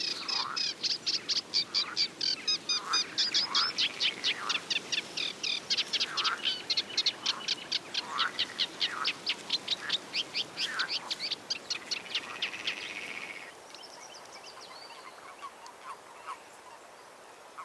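A newly hatched cuckoo chick in a warbler's nest gives a long run of rapid, regularly repeated high-pitched begging calls, clear and close, before they fade near the end.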